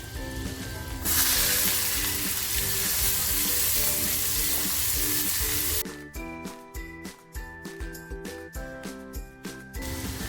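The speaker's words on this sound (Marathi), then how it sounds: "तेल टाकलंय लसूण टाकते थोडंसं जिरं टाकते थोडं हिंग टाकते आणि बारीक करून घेतलेला कांदा आहे ना तो अगोदर टाकते" Garlic, cumin, asafoetida and finely chopped onion hit hot oil in a pan for palak paneer, a loud dense sizzle that later breaks into rhythmic scraping stirs, close and with no talking.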